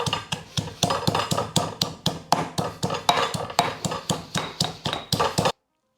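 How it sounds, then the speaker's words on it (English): Green chilies and ginger pounded into a rough paste, about two dozen sharp, evenly spaced thuds in a steady rhythm, close and loud, stopping abruptly at the end. "Continue the pounding until it becomes a rough paste."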